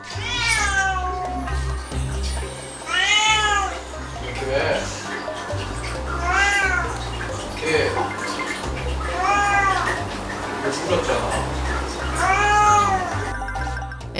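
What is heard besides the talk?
cat meowing at closed door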